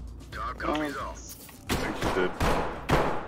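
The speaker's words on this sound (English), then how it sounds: "Somebody's shooting." Gunfire in the tactical shooter Ready or Not, a few sharp close bursts cracking out in quick succession after a stretch of talk, with a voice speaking over the shots.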